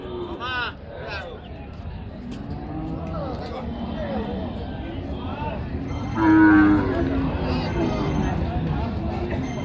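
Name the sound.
bulls at a cattle market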